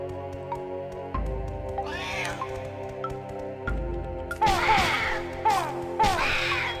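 Cats meowing in the Banjo-Tooie video game, repeated yowling cries over layered game music and effects, growing louder and busier in the second half.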